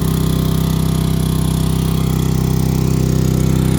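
A small motor drives the hydraulic pump on an Eager Beaver folding neck trailer, running at steady high revs with an even, buzzing drone throughout while the neck slowly lifts.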